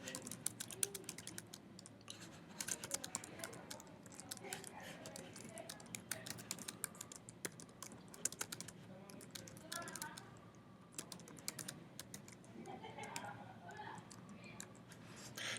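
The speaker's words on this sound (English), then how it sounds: "So what we'll do is I'll type in H1." Keys on a computer keyboard are typed in quick, uneven bursts of light clicks, close and fairly quiet, with a person talking over much of it.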